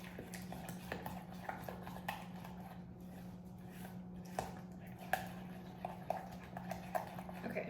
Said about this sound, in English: so we're gonna mix this up